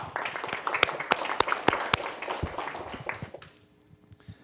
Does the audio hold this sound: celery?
no